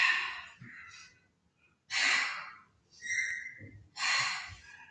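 Deep, audible breaths during a Pilates session, several long airy inhales and exhales with short pauses between, close and fairly loud, no talking.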